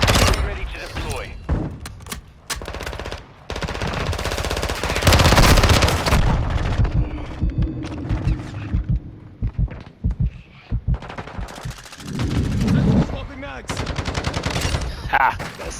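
An automated sentry gun fires in Call of Duty: Modern Warfare 2, letting off loud, rapid bursts of gunfire in several volleys with short gaps between them. Game voices and other effects are heard around the shots.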